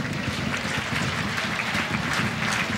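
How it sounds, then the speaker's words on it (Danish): A football crowd at a stadium in Haderslev applauds in a dense, steady burst of clapping that stays loud and even throughout, with no voices over it. "Folk begynder at rejse op i Haderslev og klappe"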